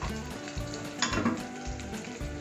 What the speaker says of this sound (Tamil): இது நல்லா பொரிஞ்சு வருது.